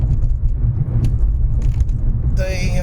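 Steady low road rumble from inside a moving car, continuous and fairly loud throughout, with a brief higher tonal whine near the end.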